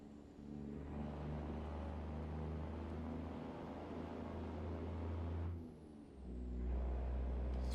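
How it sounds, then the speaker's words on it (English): A truck engine in American Truck Simulator idles and hums with a low, steady rumble, dips briefly, then swells back louder, with a faint hiss of air above it. "Oh, how I miss this truck so much. The sound of this engine."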